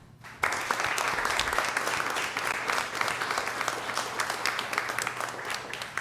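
Sustained audience applause at a city council meeting in Socorro, steady dense clapping that starts abruptly and fills the room for several seconds.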